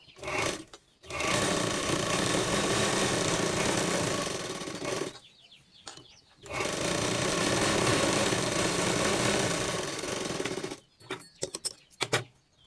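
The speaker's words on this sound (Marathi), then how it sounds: "डबल शिलाई कधी लागलीच मारून घ्यायची" A sewing machine stitches a blouse in two long steady runs of loud, continuous whirring, separated by a brief pause and ending in short bursts.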